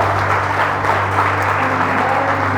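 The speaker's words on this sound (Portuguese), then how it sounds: "merece uma salva de palmas" Congregation clapping in a church service, a dense continuous applause that stays loud and even throughout, with a steady low hum running beneath it.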